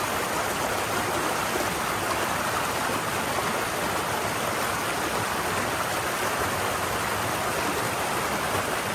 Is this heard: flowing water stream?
yes